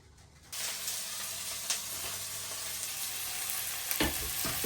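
Dried fish with chopped onion hits a hot pan with a sudden loud burst of sizzling after a quiet start, then a continuous spitting fry with a few clinks near the end.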